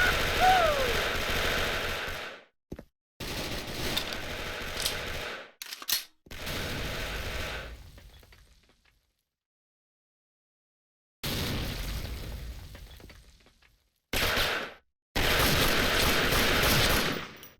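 Machine gun fire from the online shooter Special Force, loud sustained automatic bursts separated by abrupt silences, several long sprays and shorter volleys close up.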